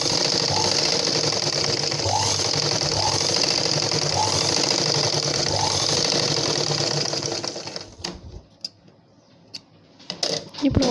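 A sewing machine stitches blouse cloth in a steady, rapid mechanical whir with regular ticking for about eight seconds, then stops, leaving a few soft clicks and handling noises.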